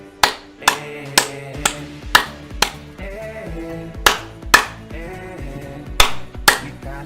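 Hands clap about ten times in an uneven rhythm, sharp and close, over a sustained tonal musical backing.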